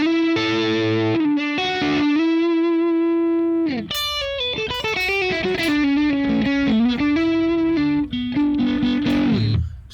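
Electric guitar played through a TONEX MAX modeler set to a Soldano SLO high-gain amp, with sustained distorted chords and then fast, punchy riffing, loud and up close with no talk.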